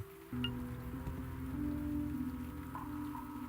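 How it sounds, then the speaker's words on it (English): Even, steady patter of rain in a video game, with a low droning hum underneath and a faint tone rising partway through. "I feel awful whenever I hear the sound of rain"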